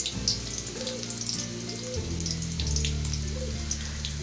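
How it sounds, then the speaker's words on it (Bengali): Chopped onions sizzle and crackle in a cup of hot soybean oil in a wok, a steady close frying hiss with no talk over it. "যতক্ষণ না পর্যন্ত পেঁয়াজটা বাদামি কালার হবে ঠিক ততক্ষণ পরিমাণ আমরা পেঁয়াজটাকে ভাজবো"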